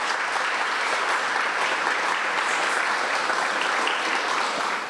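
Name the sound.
applause at an awards ceremony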